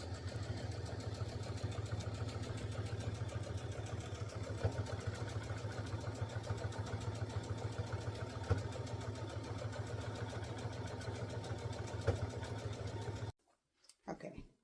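A sewing machine runs steadily for about thirteen seconds, top stitching around the perimeter of a quilt, with a fast, even motor hum and needle patter that stops abruptly near the end.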